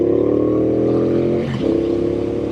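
A Triumph Speedmaster motorcycle accelerating in first gear, a loud, close engine drone rising in pitch before a brief dip as it shifts, then pulling again.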